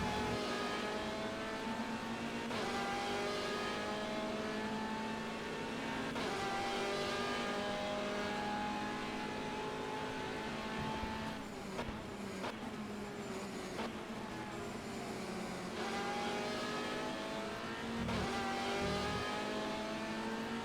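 Race cars in a video game lap Silverstone in an eight-hour race, a continuous loud engine whine rising and falling as they shift gears and pass, with no pauses throughout.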